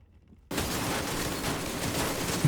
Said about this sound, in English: I'm gonna detonate it.